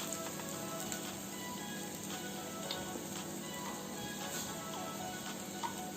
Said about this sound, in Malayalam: ഒരു വലിയ സവാള ചെറുതായി ചോപ്പ് ചെയ്ത് ചേർത്ത് കൊടുക്കുക. എന്നിട്ടൊന്ന് നന്നായിട്ടൊന്ന് വഴറ്റി കൊടുക്കുക.